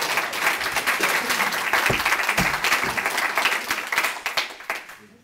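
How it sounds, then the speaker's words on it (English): Applause from an audience at a Seamus Heaney-themed creative writing reading, dense and steady clapping that fills the whole stretch at close range before tapering off at the very end. "Donald Gill, please round of applause."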